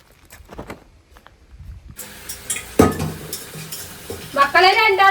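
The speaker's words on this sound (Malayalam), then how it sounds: "മുട്ട വറുത്ത് കൊടുക്കാം" An egg fries in a pan in a home kitchen, a quiet sizzle broken by sharp clanks and scrapes of a utensil against the pan, with a voice rising briefly near the end.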